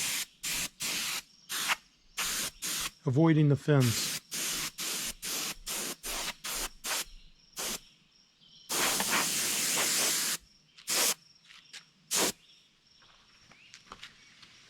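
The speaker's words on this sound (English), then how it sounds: "Then I spray the underside of my fish with a chrome pearl," Repeated short bursts of spray paint applying a chrome pearl base coat to the underside of a Northern Pike fish replica, each hiss separate and close, with one longer blast near the end and a brief spoken phrase partway through.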